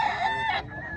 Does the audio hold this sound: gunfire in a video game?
no